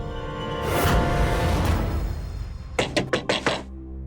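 A door is knocked on about four times in a quick, sharp run near the end. A muffled rumbling whoosh comes before the knocks.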